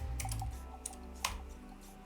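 A few quick keystrokes on a computer keyboard as a sentence is typed for a Python tool, soft clicks spread irregularly over a steady low hum, with one sharper tap near the middle.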